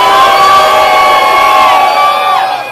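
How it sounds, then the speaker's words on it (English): A crowd at a Halloween party at a beach bar lets out a long, very loud collective scream, many voices shrieking together before it fades slightly at the end. "Are you guys ready for the loud scream again?"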